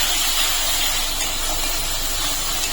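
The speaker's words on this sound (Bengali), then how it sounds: "গোবিন্দভোগ চালটা দিয়ে একটু কষিয়ে নেবো" Gobindobhog rice frying in spice paste for a fish-head muri ghonto, a steady broadband hiss and sizzle held evenly throughout with no talk.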